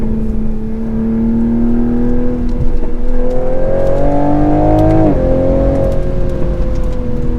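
A 2024 Toyota Supra's turbocharged inline engine revs hard under acceleration, its loud rising drone climbing through the gears before a quick shift dip, then pulling on strongly.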